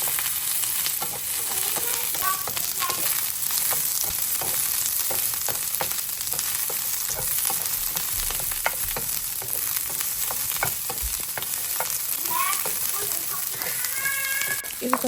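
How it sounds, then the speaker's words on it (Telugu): Chopped onion frying in a pan while ridge gourd chutney is cooked, giving a steady, close sizzle with light stirring clicks and scrapes throughout. "ఇప్పుడు అందులోనే ఆ కట్ చేసిన ఆనియన్ కూడా వేసేసుకోండి."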